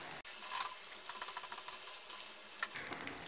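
Banana flower vadas frying in hot oil on low heat, a steady soft sizzle with fine crackling bubbles and occasional pops, fairly quiet and close, with no talking.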